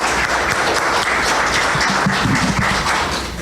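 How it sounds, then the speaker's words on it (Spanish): Steady, full audience applause welcoming Dr. Zárate Weber to a heritage talk, continuous and close, tapering slightly at the end with no talk over it. "Cedemos y recibimos con un aplauso al doctor Zárate Weber"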